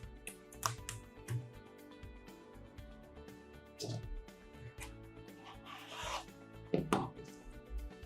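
Folded fabric is cut on a cutting mat against a ruler for quilt binding: soft scraping strokes and light taps on the mat, quiet and close, while someone talks.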